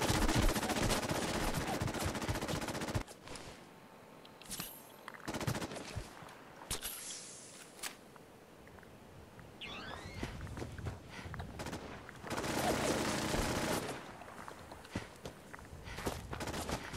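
Sentry bots open fire in Fallout 4, with bursts of rapid automatic gunfire and heavy combat noise that stop and start, loud and close, separated by quieter stretches of game ambience.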